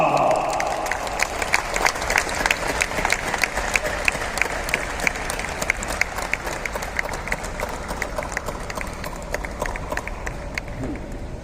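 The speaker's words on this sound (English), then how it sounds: "with a huge round of applause, please welcome the director of the opening film of the Indian Panorama section" An audience claps for a director walking on stage at a film festival closing ceremony in Goa, India, in a loud, sustained round of applause that runs steadily throughout.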